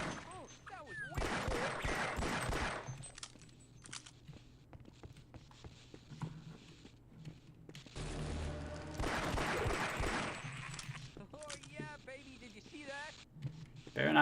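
Gunfire in the Half-Life: Opposing Force video game, a few bursts of shots scattered across the moment and mixed with footsteps and game noise, while people talk over much of it.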